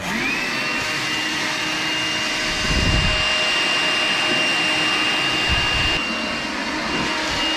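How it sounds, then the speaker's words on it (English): A hoover vacuum cleaner runs steadily while sucking up debris during a home garden bar tap installation, with a loud, continuous whine and brief louder surges as it pulls material in. "Grab the hoover, we'll hoover that up."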